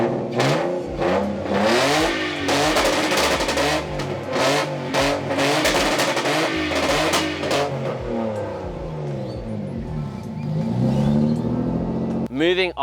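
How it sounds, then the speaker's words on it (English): A Nissan RB20 straight-six engine fires up and revs repeatedly, loud and close, its pitch sweeping up and falling back in a series of blips before settling toward idle. "let's start her up and hear that RB20 sing"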